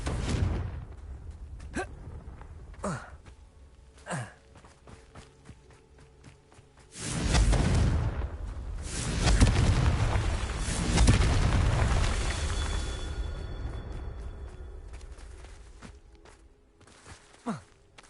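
Confringo blasting curse explosions in Hogwarts Legacy: sharp bursts and footsteps early on, then several heavy, rumbling blasts in close succession that swell loudly through the middle and fade toward the end.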